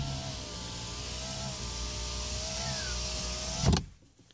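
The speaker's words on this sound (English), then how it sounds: "your window switches, one touch automatic" Electric window on a 2010 Volkswagen Polo whirring steadily as the glass travels, closing with a soft thunk before it goes quiet.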